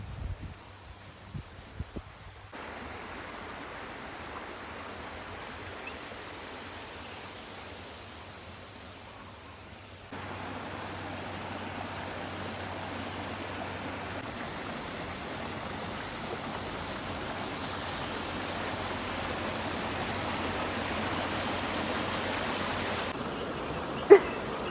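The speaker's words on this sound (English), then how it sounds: "This was advertised as a waterfall, and they weren't wrong" A waterfall in a video game gives a faint, continuous rushing hiss that steps up in level partway through and then holds steady, with a single sharp click just before the end.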